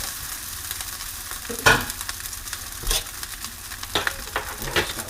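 Fried rice sizzles steadily in a hot pan, broken by scraping stirs and clanks of a utensil, with no talking.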